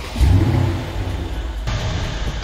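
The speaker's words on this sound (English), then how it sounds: "let me turn the car on" A 2015 Mercedes S550 Coupe engine starts, a brief loud low rumble at first that settles into a steady idle hum, close by with no talking.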